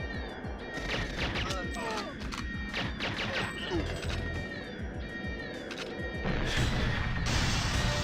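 A loud explosion and crashing impacts from the GoldenEye video game, dense and continuous with a sharper burst near the end, like game sound effects playing without talk.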